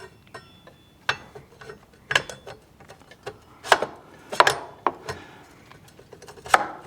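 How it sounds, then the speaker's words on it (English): A brake caliper is refitted onto a Kawasaki ZX6R motorcycle wheel. Close, scattered metallic clicks and light knocks come at irregular intervals over quiet background, with no talking. "let's go ahead and put this caliper back on."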